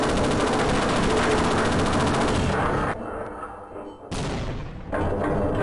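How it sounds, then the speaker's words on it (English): Grenade explosions and gunfire in the shooter game Half-Life: Opposing Force, a dense loud barrage of bursts that drops briefly before the blasts return, with no talk. "I'm hearing explosions."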